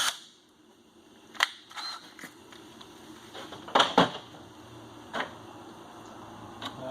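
A center punch marking a hole location on metal while installing a Rasmussen Fox RCS suspension spring hanger, a few sharp metallic taps and clicks at close range over a quiet background, no talk.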